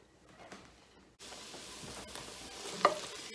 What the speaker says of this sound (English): jalapeno peppers, the onion, and a little bit of salt in this pan, and I'm going to saute it for 5 minutes.